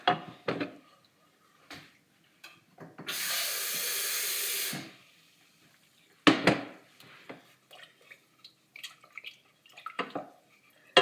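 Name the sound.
water being added to tea made with tea bags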